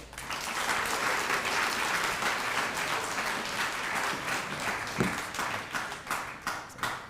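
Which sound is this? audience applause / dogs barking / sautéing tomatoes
audience applause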